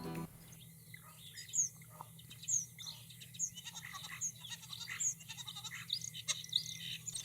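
A starling sings squeaky, whistling song with chattering and clicks, repeating in short phrases over a steady background hum, moderately faint.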